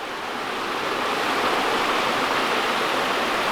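Mingus Creek rushes past Mingus Mill in the Great Smoky Mountains in autumn, a loud, even roar of flowing water that stays steady and unbroken throughout.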